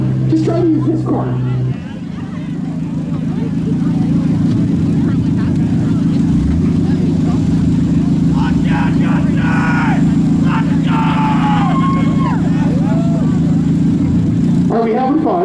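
Demolition derby car at a light mini weld heat in Huntsville, Ontario, its engine idling loudly with a steady drone close by, while people talk over it.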